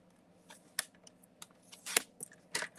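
Scissors snipping designer paper for a handmade card, a handful of quick, crisp close cuts spaced irregularly, the loudest bursts near the end, in a quiet room with no talking.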